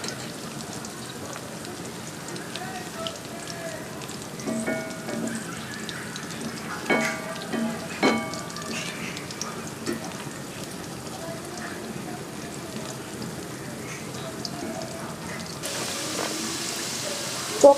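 Chicken pakoras fry in oil over low heat with a soft, steady, rain-like crackle and scattered faint pops, and a few brief vocal sounds rise over it midway.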